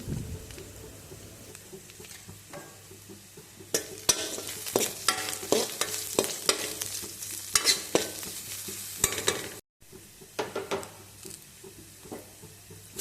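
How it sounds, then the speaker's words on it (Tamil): Onions, green chillies and curry leaves sautéing in a pan: a steady close sizzle with repeated scraping stirs, growing busier and louder midway, a brief drop to silence, then more stirring and frying. "வெங்காயம் நல்லா வதங்கிச்சு."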